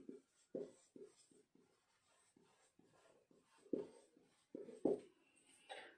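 Chalk or marker writing on a classroom board during a geometry lesson: a string of short, scratchy, uneven strokes and taps at close range, fairly quiet, with no talking over them.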